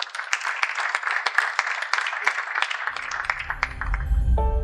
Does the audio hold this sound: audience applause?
yes